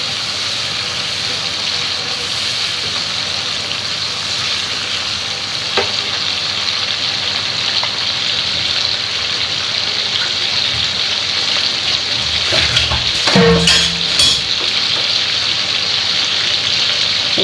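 Noodles with vegetables stirred in a frying pan for an Eid noodle dish, giving a steady sizzling hiss and soft scraping throughout, with a brief louder clatter of the utensil near the end.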